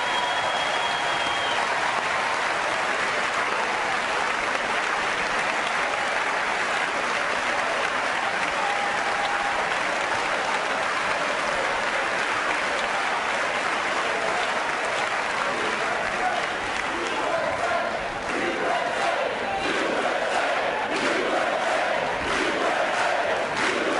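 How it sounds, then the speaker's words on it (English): Democratic members of Congress in a packed chamber applaud and cheer in a sustained, loud wave of clapping and shouts that carries on for the whole stretch, with some voices mixed in. "Democrats had no problem clapping for themselves."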